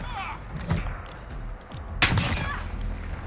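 Two sharp SKS rifle shots with a FAB Defense conversion in Call of Duty Modern Warfare, a nearer report followed by a louder one, each trailing off over a faint game background.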